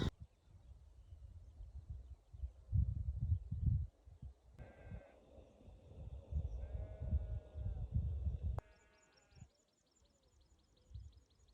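Sheep and lambs bleat on a farm during lambing season in spring. Several clear, wavering bleats overlap in the middle and toward the end, heard over low, rumbling outdoor wind noise.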